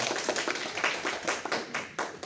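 A classroom of students claps together after a group presentation, a close, brisk patter of hands with uneven bursts over a couple of seconds.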